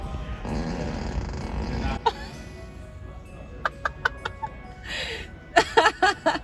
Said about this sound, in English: You can add a whoopee cushion and a fart sound when someone